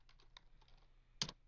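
Quick keystrokes on a computer keyboard while a script name is typed: soft, close taps in an uneven run, then one louder key press near the end, in a quiet room.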